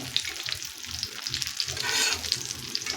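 Alu vadi, colocasia leaf rolls coated in besan, fry in hot oil for a Maharashtrian thali, giving a steady close sizzle mixed with light stirring and spattering crackles.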